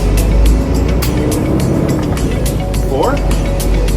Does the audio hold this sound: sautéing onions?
no